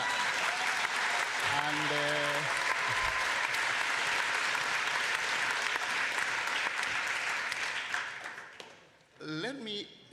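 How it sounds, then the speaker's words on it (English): Conference audience applause, loud and continuous, with a brief voice heard over it early on; the clapping thins out and dies away near the end before a speaker starts talking again. "you must clap louder than Europe"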